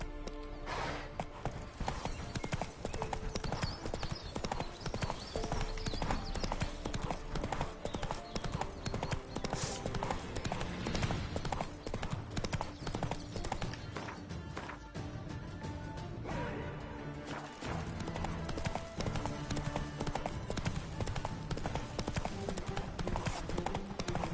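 Roach, the horse in The Witcher 3, gallops with rapid, continuous clip-clop hoofbeats mixed with game sounds and an occasional whinny; a voice is faintly present.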